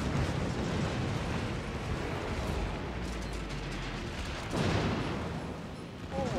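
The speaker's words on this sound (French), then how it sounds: "Je suis tes petits boulets de canon." Naval cannon fire from ships in World of Warships, a continuous roaring barrage of low booms with a stronger blast swelling near the end.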